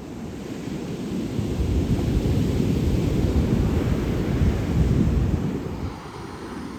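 Leftover surf rolls along the Pacific coast as a steady, loud, broadband wash of breaking waves, with wind buffeting the microphone throughout and no voices.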